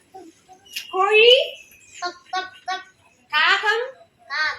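A young child mimics a chicken with a string of short, choppy clucks and squawks. One longer call opens the series, which is followed by quick staccato bursts, all close and fairly loud.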